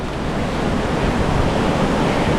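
Rushing river water of the Guadalquivir flowing beneath an old mill in Ronda, a steady, loud broadband roar that continues without a break, close and unbroken with no voices.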